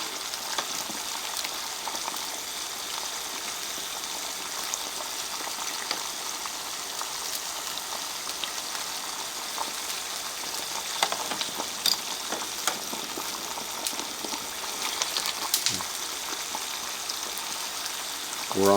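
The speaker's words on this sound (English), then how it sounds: "I'm going to let it boil for a little bit" Water boiling to melt old wax out of a UCO Original candle lantern, a steady hissing, bubbling simmer that runs evenly throughout, close by, with a few brief sharper pops near the end.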